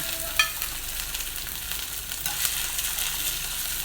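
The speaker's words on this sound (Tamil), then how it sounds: "இதில் வந்து கடுகு தாளிச்சுட்டு இந்த இஞ்சியும் வதக்கிக்கிறேன்." Mustard seeds, chopped ginger and cashew bits frying in hot oil give a steady close crackling sizzle with a few sharp pops near the start, and no one talks.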